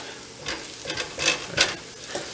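Eggs cooking in a hot pan for chicken fried rice, a soft continuous sizzle broken by several brisk scrapes and stirring strokes at uneven intervals, close and moderately loud with no voices.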